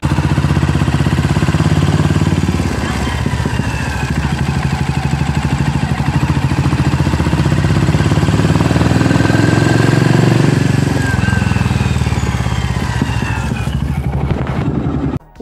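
Loud, close motorcycle engine running steadily, its primary gears giving a thin rising whine over the rumble as it pulls under load, ending abruptly.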